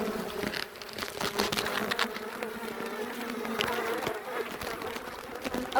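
Honeybees swarm and buzz around an Omlet Beehaus hive, a dense continuous drone close to the listener, steady throughout with no break.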